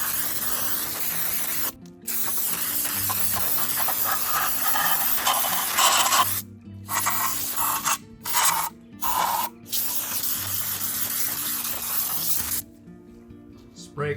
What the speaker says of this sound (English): Spray the outside of the fuel rail with CRC Clean-r-carb Carburetor cleaner to remove all of the dirty, soapy water off of the fuel rail